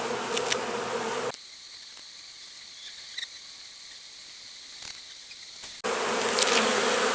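Honeybees at an open hive buzz loudly and densely up close, fading to a quieter hum for several seconds before the swarming drone surges back.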